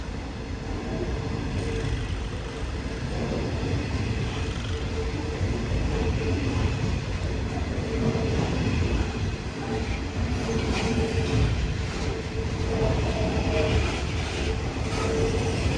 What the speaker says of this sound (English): how many carriages do you think is on this train?